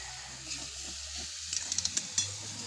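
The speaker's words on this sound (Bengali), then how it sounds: "আদা রসুন ভাজা হয়ে গেছে, এতে মশলাটা দিয়ে শুধু মশলাটা কষে নেবো" Spice paste is fried in a pan of oil with ginger and garlic for a meat curry, giving a steady soft sizzle with a few sharp clicks of a spoon stirring against the pan.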